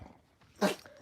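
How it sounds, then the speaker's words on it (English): A dog gives a single sharp sneeze indoors, a short loud burst standing out against quiet room noise. "That means that was an actual real sneeze."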